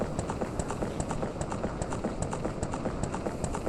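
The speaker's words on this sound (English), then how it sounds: "this man is riding his horse" Rhythmic hoofbeats of a horse galloping in a cutscene from The Legend of Zelda: Ocarina of Time 3D, a steady run of clip-clop strikes at even pace under soft game music.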